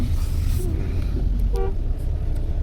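A lorry on a road, heavy engine rumble and traffic roar throughout, with a single short horn toot near the middle.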